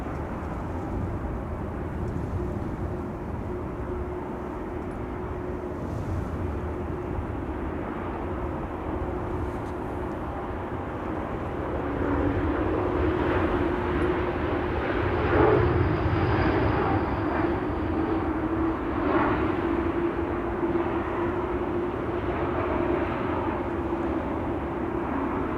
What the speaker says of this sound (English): And then Air Baltic in the Lithuanian flag livery